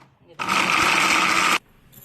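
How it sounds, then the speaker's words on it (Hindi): A kitchen grinder roars for about a second as it grinds roasted dry nuts, the loud whirring burst starting and stopping sharply between quiet moments. "अब इसको भी बस ग्राइंडर करेंगे।"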